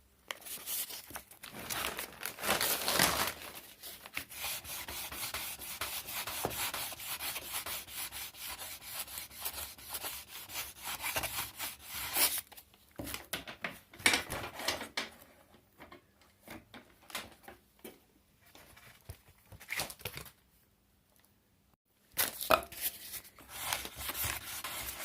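Someone polishes file scratches out of an adjustable Bisley GunTuff recoil pad fitted to a Weihrauch rifle, with steady close rubbing strokes in sustained bursts, a few brief pauses and a longer silent gap near the end.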